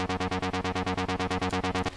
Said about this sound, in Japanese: まずはシンセベースの音ですね